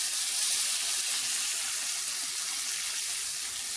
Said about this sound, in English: in we go with chicken broth.